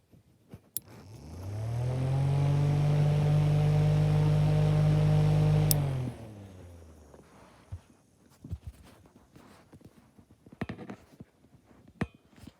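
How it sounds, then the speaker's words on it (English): A 4-inch unbranded brushless USB clock fan with a 2.5-watt motor hums steadily with a tonal whir, then falls away after about six seconds and fades as it spins down, leaving quiet clicks and handling noise. "for spin down time on a 4-inch fan, this is a really good spin down time"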